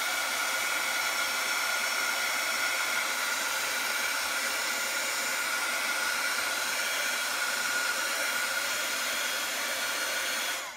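A hair dryer runs steadily at close range, drying colored ink on die-cut paper, a continuous loud airy roar that holds unbroken for about ten seconds with no voices.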